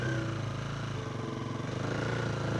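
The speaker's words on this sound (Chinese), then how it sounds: "对的，摩托车。" A motorcycle engine idling with a steady, close, pulsing putter and no change in pace for a couple of seconds.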